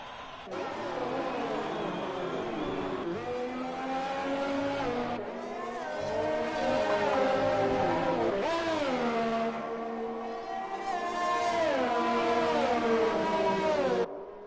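Race cars at the Bahrain circuit, engines whining loud and close with rising and falling revs and gear shifts, a continuous high-pitched drone across the whole stretch with no voices.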